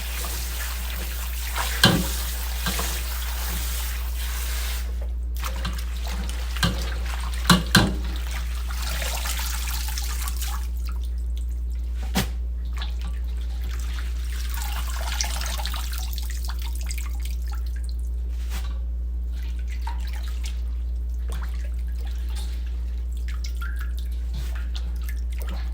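Turnip greens with roots are rinsed in a sink of water, with gentle sloshing, splashes and drips plus a few sharp knocks over a steady low hum.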